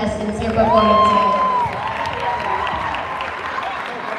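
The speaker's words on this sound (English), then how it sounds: "big round of applause to all of the contestants here performing today" An audience at a youth cheer competition in California claps and cheers for the contestants, a steady wash of applause and crowd noise with a voice rising briefly above it.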